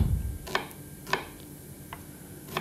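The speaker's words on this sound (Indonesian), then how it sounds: "Saya potong-potong dulu bawang bombaynya" Half an onion being cut with a knife on a board, giving four sparse, sharp chops spaced irregularly, fairly quiet and close, with no talking.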